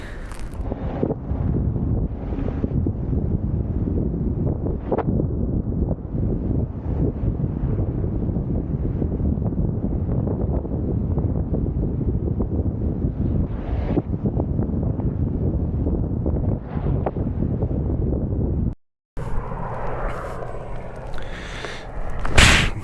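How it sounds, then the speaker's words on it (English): Heavy wind buffets an Insta360 One X2 camera during a ride, a loud continuous roar for most of the clip before a brief dropout and a short, different stretch of noise at the end. "that's flapping around in the wind"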